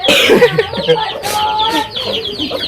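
Chickens cluck in a busy, close setting in Indonesia, several bird calls overlapping with scattered voices and movement noise throughout.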